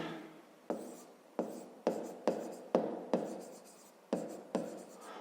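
A pen writes on paper during a fifth-grade math exercise. Crisp stroke scratches come in short, close bursts, about eight of them, with quiet gaps between.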